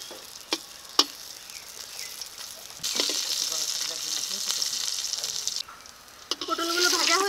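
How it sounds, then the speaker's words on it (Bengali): Pointed gourd pieces are flipped in hot oil with a couple of sharp knocks, then a louder sizzle swells up and continues, and a voice speaks briefly at the end. "এখন উল্টে দিয়ে আরেকটা সাইড একটু ভেজে নেব।"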